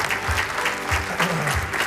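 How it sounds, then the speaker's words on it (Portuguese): Studio audience applauding on a Portuguese morning talk show as a guest is welcomed, steady dense clapping under low rumbling tones and a faint voice. "um grande aplauso para ela"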